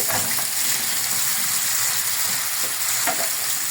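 Potatoes tossed into a hot pan with onion and pepper sizzle steadily up close while being stirred, with a couple of brief scraping sweeps through the continuous frying hiss.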